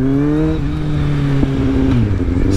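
A Kawasaki Z750 motorcycle with an aftermarket Delkevic exhaust revving up and dropping back, a deep rumbling engine note close by with a couple of sharp pops, no voices.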